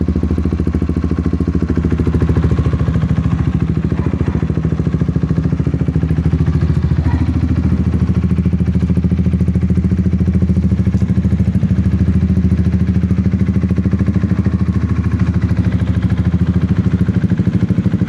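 A customized Yamaha Xmax scooter engine runs steadily at idle, a loud, continuous low rumble with mechanical clatter that holds throughout, close up and without talk.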